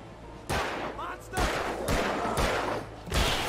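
Gunfire in the horror game Alan Wake as enemies are shot, several loud sharp bangs spaced about half a second apart over a dense, noisy game backdrop.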